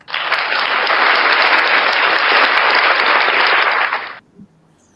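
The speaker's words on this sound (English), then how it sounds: "let's just give her a great big hand of applause for taking the time to join us here today." Loud, dense applause from an audience welcoming a guest on a health talk show, sustained evenly for about four seconds and then stopping abruptly, with no voices over it.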